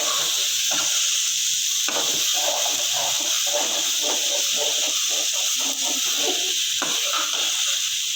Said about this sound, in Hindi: इसको तब तक भूनेंगे जब तक फ्राई करेंगे जब तक ये एक मसाला टाइप ना बन जाए